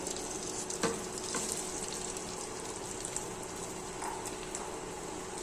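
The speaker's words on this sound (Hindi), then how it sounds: "ये ज़ीरा हमारा भून गया, इसके अंदर हम आलू डाल देंगे जो मैश किए हैं आलू।" Mashed potatoes frying with roasted cumin in a pan, a steady close sizzle with a few soft knocks and scrapes, no voices.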